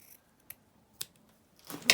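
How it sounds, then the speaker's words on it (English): Scissors snip through paper ephemera in a few short, crisp cuts spaced about half a second apart, followed by a louder rustle of paper handling at the end. "Okay, and snip that off."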